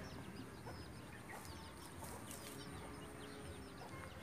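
Chickens cluck faintly in a backyard beside a catfish pond where Muscovy ducks are also kept, with scattered distant clucks and chirps over a steady outdoor background.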